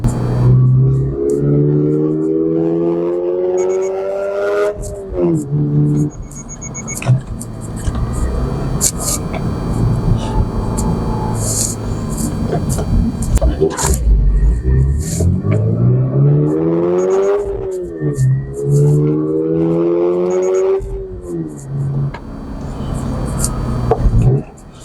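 Engine of a 2024 Toyota GR86 with a manual gearbox, heard from inside the cabin: it revs up in rising sweeps, drops off at each gear change, then climbs again, loud and close, while someone talks over it.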